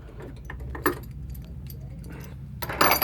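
A quick-disconnect bench mount for a Lee Pro 1000 reloading press is unscrewed by hand, giving sparse metallic clicks and clinks up close, then a louder rattling clatter near the end.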